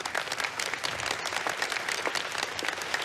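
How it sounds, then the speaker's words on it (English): Studio audience applause at a TV talk show, a dense, even patter of clapping from a crowd, moderately loud and continuous for a few seconds. "A round of applause."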